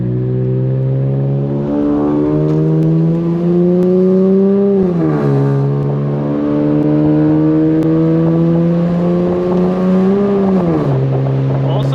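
A tuned Infiniti Q50 fitted with stock exhaust parts from a 2008 G37 drones loudly from inside the car on a late-night drive, its engine tone climbing steadily under acceleration and dropping sharply at each upshift, with no talk.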